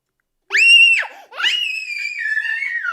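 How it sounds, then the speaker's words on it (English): A sudden high-pitched shriek from a baby, two piercing drawn-out screams close up, the second trailing off slowly. "Baby scream."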